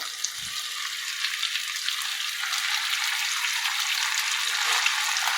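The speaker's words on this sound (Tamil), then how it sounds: "இதை 1 நிமிஷம் வதக்கிட்டு தக்காளி ஆட் பண்ணிக்கிறேன்" Onion and garlic sauté in a pan for a mutton meatball curry, giving a steady, even hiss of frying close by with no talking and little variation.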